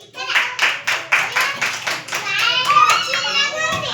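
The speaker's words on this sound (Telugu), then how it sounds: "క్లాప్స్ పిల్లలు, క్లాప్స్ పిల్లలు" Schoolchildren in a classroom clap in a quick, uneven burst of many small hands, with kids' voices chattering and calling over and between the claps.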